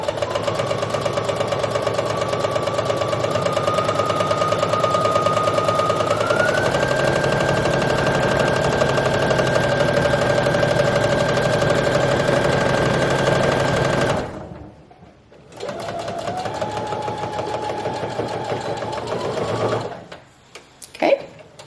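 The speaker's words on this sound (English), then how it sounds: "I'm going to hop over to the sewing machine, and I'm going to do a straight stitch all along there." Sewing machine running a straight stitch along dress-shirt fabric for an apron, a fast steady whir that rises in speed, stops briefly, then resumes in a shorter burst before halting.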